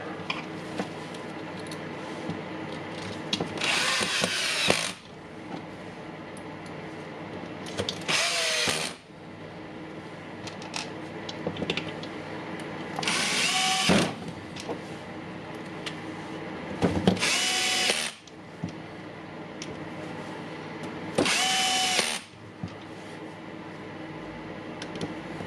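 A small Hikoki Hitachi angle grinder, just serviced with its gears reassembled, runs up in five separate bursts of a few seconds each, a loud high whine close by with quieter handling noise between runs.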